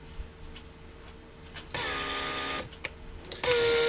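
A Mercedes W140 door-lock vacuum pump runs in two loud buzzing bursts, each lasting about a second, separated by faint ticking and clicks close by.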